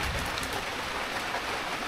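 Rain falling during a thunderstorm at a swamp, a dense, even hiss of drops on water and foliage, fairly close and steady for the whole moment, with no voices.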